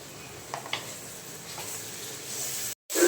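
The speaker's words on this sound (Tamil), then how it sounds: "இது பச்சை வாசனை போகிற வரைக்கும் நீங்கள் வதக்கிக்கோங்க." Onions and ginger garlic paste sauté in a pan with a soft, steady sizzle, a few faint clinks of stirring, and a brief dropout near the end.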